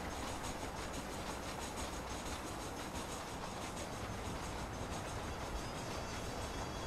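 Train rolling along rails in the video game Red Dead Redemption, a steady, dense rumble with a faint rhythmic clatter running through the whole stretch, loud and unbroken with no talk.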